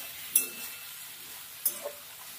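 Chopped onions and cooked potato are stirred in a frying pan, giving a couple of faint scraping strokes over a quiet, low sizzle with no talking.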